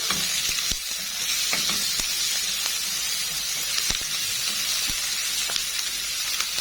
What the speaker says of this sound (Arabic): اول ما يسخنوا معايا كده في قلب الطاسه انزل عليهم على طول ببصلتين اتنين كده حلوين متوسطين الحجم. اديلهم تقليبه خفيفه كده